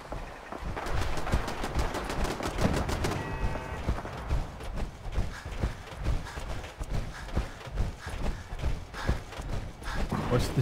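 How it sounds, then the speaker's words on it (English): Rapid gunfire in the Fallout 4 video game, bursts of sharp shots rattling out in quick strings, loud and close, with someone talking over parts of it. "Where's the shooting coming from?"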